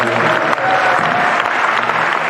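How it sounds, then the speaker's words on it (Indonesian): An audience at a grand motivational seminar claps together in a brief, loud, steady round of applause, with crowd murmur mixed in. "Tepuk tangan buat mereka bersama."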